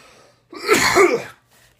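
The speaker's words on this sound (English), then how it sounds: "You probably can hear my wife coughing in the background." A single harsh cough burst from a woman with a cold, lasting under a second, heard alone in a quiet room with faint background noise.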